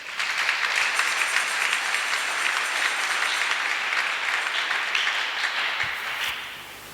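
A church congregation applauds and cheers in acclamation of Jesus Christ, a dense, steady wash of clapping that holds at full strength before tapering off at the end.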